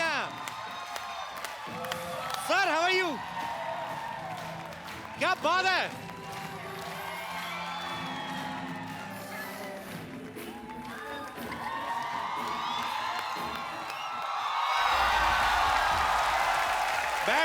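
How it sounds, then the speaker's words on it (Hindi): Studio audience on a comedy talk show breaks into loud applause and cheering, with whoops and shouts rising over the host's talk and swelling again toward the end. "जोरदार तालियां।"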